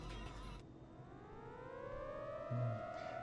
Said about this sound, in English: Suddenly, I heard a siren down below.